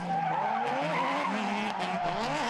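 A naturally aspirated Mazda 13B rotary drift car slides through a race corner with loud, sustained tire squeal and a wavering engine note, close and continuous with no voices over it.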